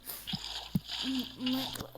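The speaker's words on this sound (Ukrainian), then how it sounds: "Ще раз залити водою все місце, де була пожежа" In the Minecraft video game, water is poured over the spot where a fire burned, giving a few short splashing and sloshing effects with brief tonal game sounds, while a voice is faintly present.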